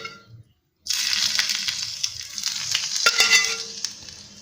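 Hot tempering (tarka) poured onto dahi phulkian sets off a sudden loud, close sizzle after a moment of quiet, hissing steadily with small crackles for several seconds.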